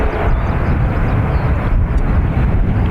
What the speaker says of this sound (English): Logan Air, Embraer off to Aberdeen.